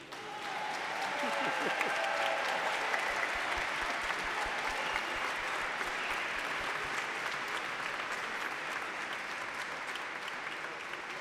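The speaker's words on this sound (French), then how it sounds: "Ben pour que vous les applaudissiez." A congregation at a youth Mass in a church applauds steadily, a dense wash of many hands clapping at moderate distance that carries on without pause.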